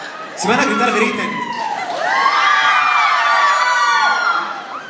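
A crowd at a live big band concert shouts and cheers together, many voices rising in a loud, sustained roar with high screams, swelling and then easing off.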